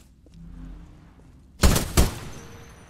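Two sharp, loud gunshots from a weapon in the video game Titanfall 2, following a quiet stretch with a faint low hum.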